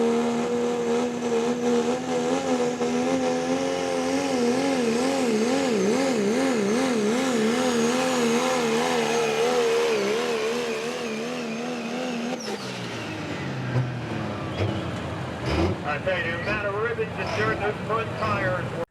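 A 2017 Ford F-250 super modified truck roars through a loud truck pull run, its engine note wavering and climbing steadily before cutting off into a rougher, noisier stretch near the end.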